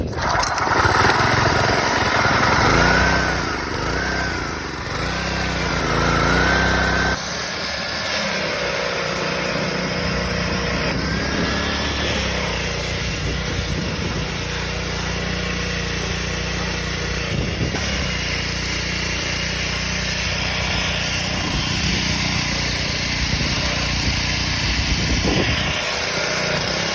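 An E-TON Viper 70 two-stroke engine runs after being pull-started, a loud, buzzy, rattling drone held steadily throughout with small shifts in pitch, like a small light engine idling close by.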